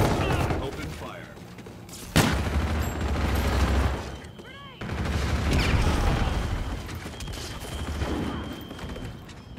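Heavy gunfire and bursts of automatic weapons fire in the sci-fi shooter Call of Duty: Infinite Warfare, loud and sustained with booming impacts, while radio-style voices talk over the combat.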